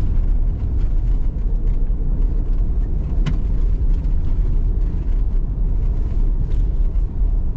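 A Ford Ranger Tremor pickup driving fast off-road, giving a steady, loud rumble of engine and tire noise over rough ground with one sharp knock partway through, and no one speaking.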